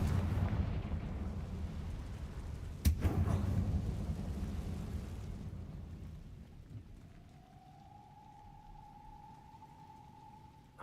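A Confringo explosion spell goes off in a video game with a sudden sharp blast and a rumbling roar that slowly fades, after which a thin, steady tone lingers.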